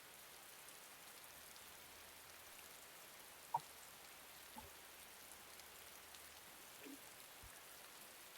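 Steady soft rain patters on a surface, a constant gentle hiss with a few louder drips and taps standing out, no voices.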